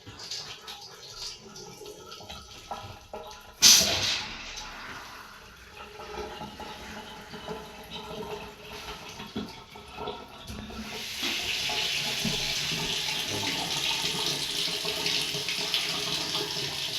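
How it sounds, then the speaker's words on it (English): Water runs from a newly installed Moen Lindor bathroom sink faucet: a sharp tap clunk, then a thin trickle that swells into a steady, close rushing flow with no talk. "So we're going to go ahead and turn on the water and test the faucet and check for leaks."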